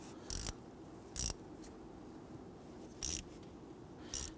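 A torque wrench tightens thermostat housing bolts on a 2008-2013 Infiniti G37, giving four brief, spaced ratcheting clicks against a quiet background.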